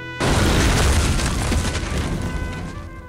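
A grenade explodes in the video game Total Overdose with a sudden loud boom, then a broad rumbling roar that slowly decays over about three seconds.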